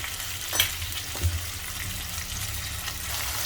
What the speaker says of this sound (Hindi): भिंडियों को हाई फ्लेम पर हल्का सा थोड़ा सा फ्राई करेंगे